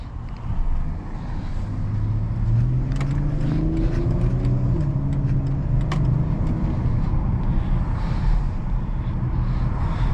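A 2014 Dodge Challenger's naturally aspirated 3.6 V6 engine rises in pitch as it accelerates, rumbling under heavy wind buffeting, then settles into a steady drone.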